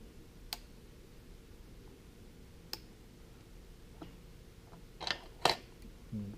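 Small scissors snip material while a fishing jig is being tied, a few sharp isolated clicks spread over a quiet background, with a quick double snip near the end.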